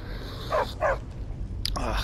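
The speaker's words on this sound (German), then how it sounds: "Ständig bellt er." A dog in a video game gives two quick barks, then another short bark near the end, over a steady low game ambience.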